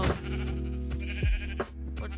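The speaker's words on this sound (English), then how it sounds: "Sheep!" Minecraft sheep bleat in a video game, a few short, close bleats over a steady background of sustained low tones, with no talking.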